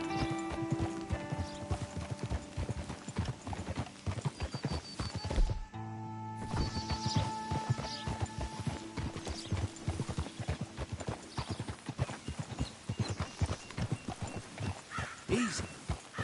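Horse hooves clip-clop at a steady gallop in the video game Red Dead Redemption 2, a continuous rhythmic run of sharp thuds with a snort and a short pause partway through, and no talking over it.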